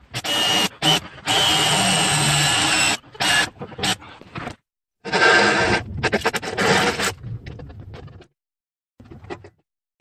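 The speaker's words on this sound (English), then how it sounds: "Let me go ahead and see if I can drill this hole." Electric drill boring a hole through the firewall of a Dodge 1500 pickup during a posi-lok install, heard as several loud, broken bursts of whirring and grinding separated by short pauses, fading out near the end.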